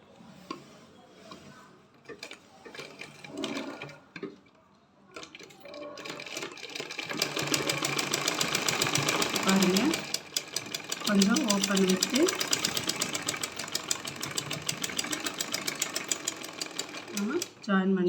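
A sewing machine stitches the side seam of a pair of panties in a tailoring class, its rapid steady rattle running loud and continuous for most of the clip after a quieter start with some talk.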